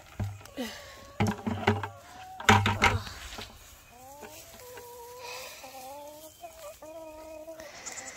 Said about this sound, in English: Oh, there's these cute little chickens.